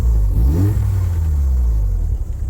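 A Mazda RX7 rotary engine idling after a cold start, loud and close, with a steady low throbbing drone and a brief rising-and-falling rev blip early on.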